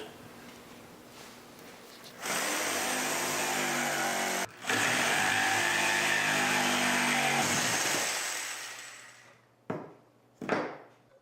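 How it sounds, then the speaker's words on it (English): A power saw cuts plywood for a workbench shelf, its motor spinning up sharply into a loud, steady whine, dipping for a moment, then winding down with a few short bursts at the end. "Next we need to cut out the shelf plywood to allow for the legs."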